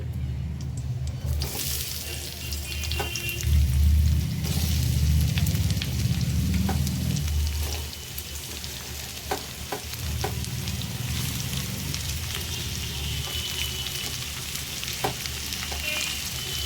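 Chopped onions fry in hot oil with whole garam masala for a chicken kosha, a steady close sizzle with stirring and occasional scrapes, the bubbling swelling louder mid-clip before settling back.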